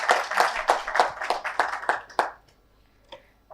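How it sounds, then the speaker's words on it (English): A conference audience claps together in a burst of quick, uneven hand claps for about two seconds, then the clapping stops abruptly, leaving a few faint scattered claps in a quiet hall. "let's give a big clap"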